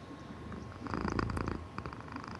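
A person imitates a cat's purr with a steady, rumbling vocal drone that swells louder in the middle, close to the mic, with no other talk.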